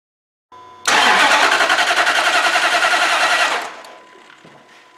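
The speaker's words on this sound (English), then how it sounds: "We've got a crank and a no start condition." A 2005 Dodge Ram 1500 4x4 with a 4.7 liter engine cranks without starting: a loud, rhythmic starter churn for about three seconds, then it stops and a lower hum lingers.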